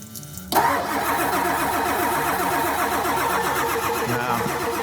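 A truck engine cranks over and over without firing in freezing cold, the starter's steady rhythmic churning loud and close for several seconds with no catch.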